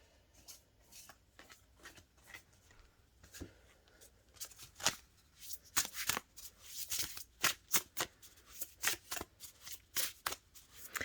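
Starseed Oracle cards being shuffled by hand, quiet close-up riffling and sliding that starts sparse and grows into a rapid run of soft slaps and flicks, with no talk.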